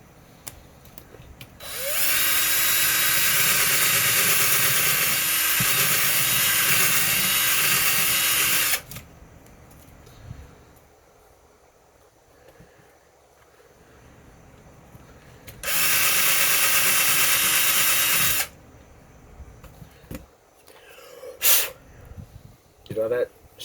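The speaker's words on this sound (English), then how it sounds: "And then you flip it over and you grab your drill again." A power drill boring through RC truck parts for a budget Clodbuster build runs in two long sustained bursts, about seven seconds then three, loud and close, with quiet handling clicks between and after.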